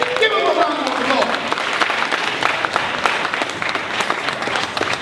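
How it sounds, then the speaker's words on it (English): A debate audience breaks into applause for a speaker, with dense clapping that holds steady for several seconds. Voices are heard briefly near the start. "Give him a round of applause."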